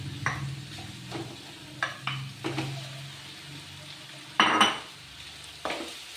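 Mango chitranna rice being stirred and fried in a pan, a spoon scraping and clinking against the metal in irregular strokes over a soft background sizzle, close by with no talking.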